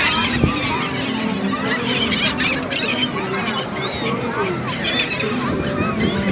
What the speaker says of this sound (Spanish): Mira, hay muchas gaviotas diferentes